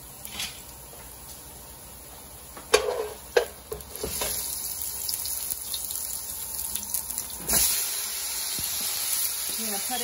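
Chopped onion and garlic hit a hot pan and fry, giving a steady close sizzle. Sharp clatters from a utensil stirring come near the start, then another burst of hissing as more goes in.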